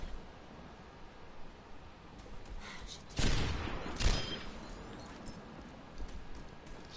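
Gunfire from a sniper rifle in the video game Overwatch: two loud, sharp shots about a second apart, each with a brief rumbling tail, over quiet game ambience.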